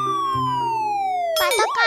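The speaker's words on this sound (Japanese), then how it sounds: "パトカーと泥棒だ。" Police car siren in a toy vehicle cartoon: a loud, sustained electronic wail sliding steadily downward, then broken by a short burst of other sound at the end.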